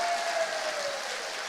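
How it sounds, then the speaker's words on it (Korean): A church congregation at an early-morning revival meeting claps together, a soft, distant, even patter of many hands with a faint held tone beneath it. "박수를 한번 힘차게 쳐줘요."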